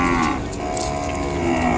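An Ongole bull at a livestock market gives a sustained, loud, close moo that is heard alone over steady background noise.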